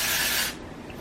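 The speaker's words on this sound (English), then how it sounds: "I usually just spray it kind of up into my hair like that" A hair texturizing spray hisses in one continuous burst lasting about half a second, close and fairly loud, then cuts off into quiet room tone.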